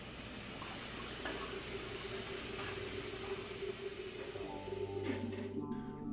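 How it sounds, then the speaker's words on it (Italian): Water is poured into a frying pan for tagliatelle, a continuous splashing, gurgling stream that grows slightly fuller and more tonal near the end. "Metti un po' d'acqua nella padella per le nostre tagliatelle."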